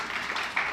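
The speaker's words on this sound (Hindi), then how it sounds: "जोरदार तालियां बाबू जी के सम्मान में।" An audience at a Jain religious discourse claps in honour of an elder: steady, dense applause that sounds fairly distant and continues for under a second with no voices over it.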